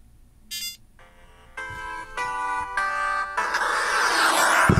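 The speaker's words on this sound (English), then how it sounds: "Y'all know that ringtone." A Samsung phone's old-school ringtone plays from inside a pocket: a short tonal blip, then a series of bright, rising melodic beeps that grow louder and denser, ending in a full, loud burst.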